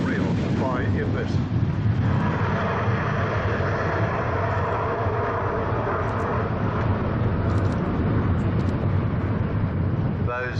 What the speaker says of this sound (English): Those two Rolls-Royce Tay turbofans, you can hear they're very, very quiet operations.